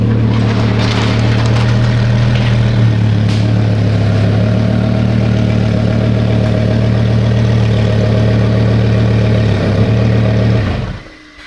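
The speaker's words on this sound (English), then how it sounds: "The new Valvetronic exhaust is on the Huracan and it sounds insane." Lamborghini Huracan engine fitted with a new Valvetronic titanium exhaust, idling loud and close with a steady deep rumble and a slight rise midway, then cutting off abruptly at the end.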